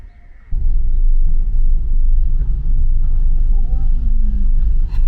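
A car's engine rises into a loud, steady low rumble after a quiet half-second as it is driven out of a driveway. The rumble stays close and continuous with faint cabin noise.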